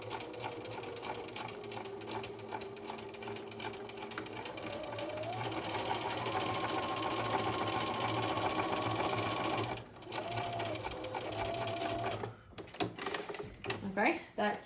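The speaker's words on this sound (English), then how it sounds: "I'm gonna back stitch here" A sewing machine back stitching a princess seam, its close rapid motor whir running in steady bursts, pausing and restarting, with a brief clunk near the end.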